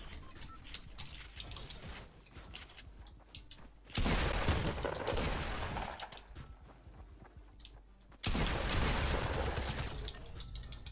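Gunfire in a Fortnite match, with two loud bursts of rapid shots that start abruptly and run for several seconds each. Quieter, scattered sounds fill the stretch before them.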